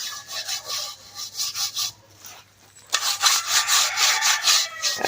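Dirt or clay being rubbed against the edge of a cooking pot outdoors in the Jamaican countryside, giving rhythmic scraping strokes in two bursts with a short pause between, close up and alone with no talk.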